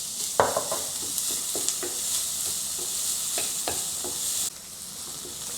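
Onion and chopped chili with ginger sizzling steadily in a pan, a bright continuous fry with occasional spatula scrapes and stirs, close and fairly loud, easing slightly near the end.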